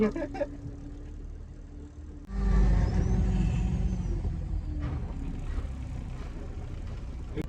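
A crane truck on the move at Hyderabad's Rajiv Gandhi International Airport: a low diesel rumble that surges loudly after a quiet idle and then holds as a steady, close engine drone, with no voices.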